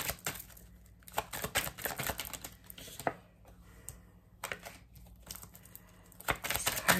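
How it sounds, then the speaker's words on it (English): Tarot cards being shuffled by hand, with bursts of crisp riffling and slapping card noise in uneven clusters separated by short quiet gaps, close and fairly soft. "These cards just don't shuffle right anymore."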